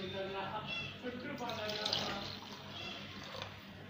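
Water poured into a bowl while cooking in a kitchen, a steady splashing trickle at moderate level.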